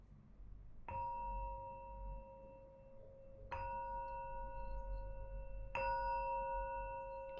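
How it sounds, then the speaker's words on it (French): Three struck gong or singing-bowl tones close a guided meditation, each a clean bright strike with a long ringing sustain, evenly spaced and fairly soft, with no talking over them. "je vais sonner le gong final."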